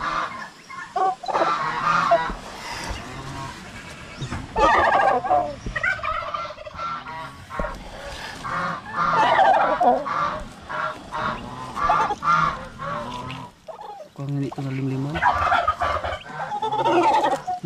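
Turkeys gobble and honk repeatedly on a Filipino farm, loud and close, a dense overlapping flock calling almost without pause.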